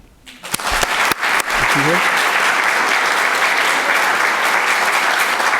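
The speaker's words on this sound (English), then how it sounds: "Tonight, let us celebrate with a round of applause for Alicia." An audience at a foster care charity's annual impact event breaks into applause for an award recipient. A few scattered claps come first, then dense, loud clapping swells after about a second and holds steady to the end.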